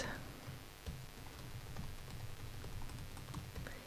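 Someone types an email address on a computer keyboard: a quiet run of light, irregular key clicks and taps, close by, with faint background and no speech.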